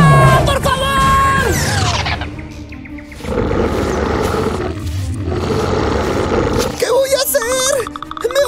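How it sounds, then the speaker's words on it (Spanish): Cartoon tiger roars loudly across most of the stretch, a sustained growling bellow over music and dramatic effects, with a short burst of talk near the start and again at the end. "¡Dios mío, un tigre!"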